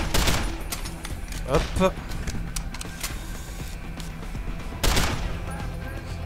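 Rapid bursts of gunfire from the video game Deus Ex: Human Revolution, a loud volley at the start and another sharp burst near the end, with game ambience between and a brief spoken word.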